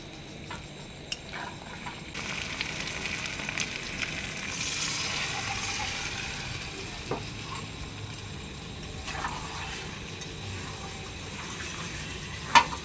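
Chicken frying in a pan with soy sauce, tomato sauce and chili sauce, giving a steady close sizzle with occasional scraping and clinking from stirring, and no talking.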